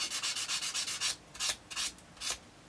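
A sand stick rubs back and forth across a plastic 1:72 Airfix Lightning model aircraft, giving a series of short close rasping strokes in quick bursts, quiet and without talk.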